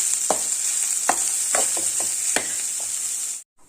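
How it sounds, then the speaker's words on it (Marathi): Freshly grated wet coconut roasting in a hot pan, a steady sizzle broken by several sharp scrapes and stirs of the spatula, close and fairly loud, before cutting off abruptly near the end. "आता ह्याच्यामध्येच हे ओलं खोबरं घालून घेऊयात आणि हे सुद्धा आपण भाजून घेऊयात"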